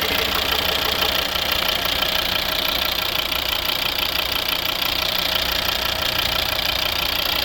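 A 2011 Volvo V50 2.0 D3 diesel engine idles close by, a continuous droning rumble with a faint rhythmic knock running through it, with no voices.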